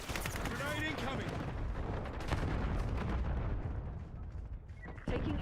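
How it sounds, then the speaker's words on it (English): A grenade explosion and gunfire in the shooter game Black Ops 6 form a dense, continuous roar of blasts and shots at fairly low level, while a voice talks over the battle. "Grenade incoming."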